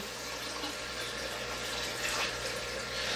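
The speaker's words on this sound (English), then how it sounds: "Go ahead and dump the water in." Water is dumped from a bucket into a 33-gallon long planted reef aquarium during a small water change, a continuous loud rushing splash for the whole stretch with no voices.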